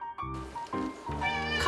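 A house cat meows mournfully indoors, three drawn-out, wavering cries in close succession, near and clear with little else around them.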